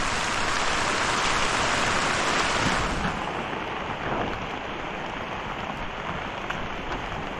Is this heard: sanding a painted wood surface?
no